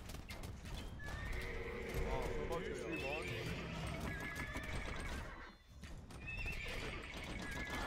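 Horse neighs and clip-clopping hooves from the video game Age of Empires II: Definitive Edition, loud and continuous, with a whinny rising midway over dense battle-like game ambience.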